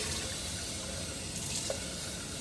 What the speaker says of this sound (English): I'm just gonna rinse this out real quick here